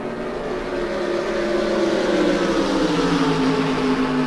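A BMW racing car's engine drones in a simGT sim racing video game at Mugello, a steady loud tone with drifting pitch as it holds revs and slowly drops, with no voices.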